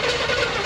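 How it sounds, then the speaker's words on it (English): Brief burst of a 1973 Chevrolet C10 big block V8 running with a blown-out muffler, a dense, close, steady engine roar lasting under a second. "let's see if we can get her running again. Dang, just fire right up and idle."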